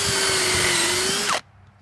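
A power drill drives a screw into a wooden fire pit bench, whining steadily at close range for over a second before the motor suddenly cuts off.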